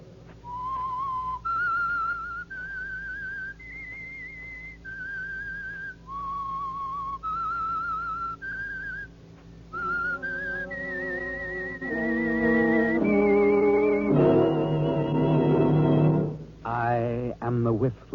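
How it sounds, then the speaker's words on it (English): The eerie whistled theme of the 1946 radio mystery program The Whistler, a lone human whistler carrying a slow, wandering melody in distinct held notes before a small orchestra swells in underneath and takes over the tune. "That whistle is your signal for the Signal Oil program"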